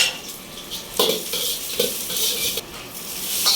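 Garlic sautéing in hot oil in a pan, with a loud continuous hiss and sizzle and a few clinks of a utensil against the pan, close up.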